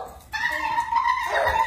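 A dog gives high whimpering yips and whines, a string of close tonal cries running together over a short stretch with a little background noise.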